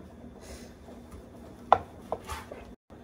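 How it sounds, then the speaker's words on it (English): A knife cuts through an Iberico chorizo sausage, giving a few sharp, close chopping knocks on a board with a short scrape between them before the sound stops. "And then we're gonna start cutting this sausage."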